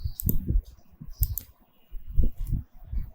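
Computer mouse clicks on a save button, a few close, soft taps spaced irregularly with quiet gaps and no talking.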